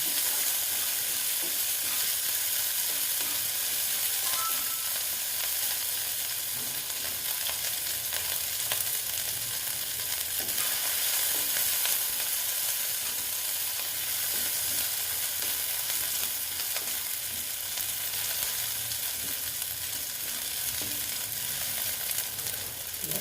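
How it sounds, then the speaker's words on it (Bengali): Onions frying in a pan give a continuous close sizzle with intermittent stirring scrapes, holding steady for over twenty seconds with no talking. "এবার আমি পেঁয়াজগুলো দিয়ে দিচ্ছি দিয়ে সুন্দর করে পেঁয়াজগুলো আমি ভেজে নেব"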